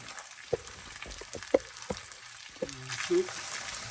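Soft sizzling of creamed corn frying in oil in a pan, faint and close, punctuated by a few clicks and light stirring scrapes.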